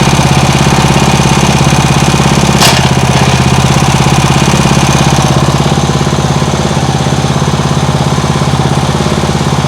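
A Briggs & Stratton lawn mower engine rigged as a boat outboard, running in reverse, drones loud and steady at close range with a fast, even chugging pulse and one brief sharp click partway through.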